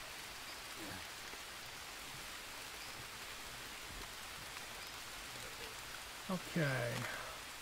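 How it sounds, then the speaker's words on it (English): Steady rain hisses in the jungle survival game Green Hell, quiet and continuous, with a man's brief spoken word near the end. "Looks like the rain will actually clean you off"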